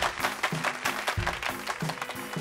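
Steady crowd-like clapping in Mario & Luigi: Brothership, with a rhythmic musical pulse underneath, a bright continuous patter of hands at moderate volume.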